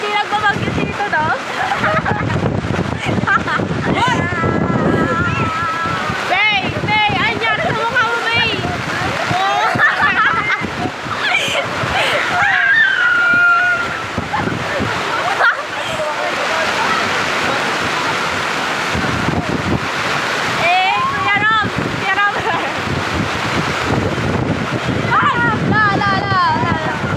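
Strong stormy wind with heavy rain batters the microphone, roaring steadily throughout while people talk over it.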